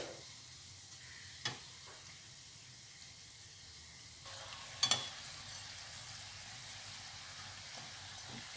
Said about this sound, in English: cook the gujia until they are golden brown in color